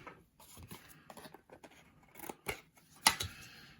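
Scissors snip along the edge of black washi tape stuck on a postcard, giving a few quiet, close cuts with a sharper snip near the end.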